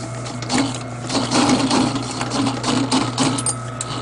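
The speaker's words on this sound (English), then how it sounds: "I'm going to do the first north-south stitch pattern." A sewing machine stitches a north-south pattern on a repair, a steady close mechanical whir with a rhythmic needle chatter running throughout.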